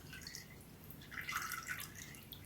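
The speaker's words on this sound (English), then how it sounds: "I just want to make sure I get all the water out, because I don't want these roots to be sitting in water." Water draining and dripping from soaked orchid roots after a ten-minute soak, a soft continuous trickle with scattered light drips, fairly quiet and close, no voices.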